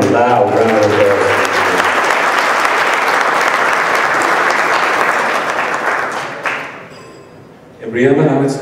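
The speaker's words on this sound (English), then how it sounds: "Let's give him another warm, loud round of applause." A gala dinner fundraiser crowd in Atlanta breaks into loud, sustained applause that fades toward the end, with a voice briefly speaking over it and again as the clapping dies down.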